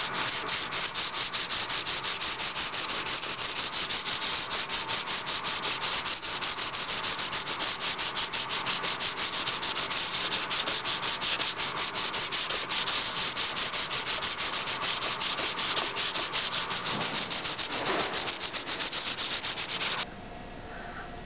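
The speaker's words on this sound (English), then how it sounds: "Next step after the primer is dry, sanding." Steady close-up hand sanding of dry primer on a metal plate being restored, a continuous scratchy rasping of quick back-and-forth strokes lasting about twenty seconds before easing off, with no voices.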